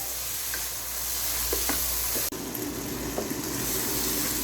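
Chicken meat and spices sizzle steadily in a hot pan for haleem, with a continuous frying hiss and occasional soft scrapes of a spoon stirring, close and loud with no talking.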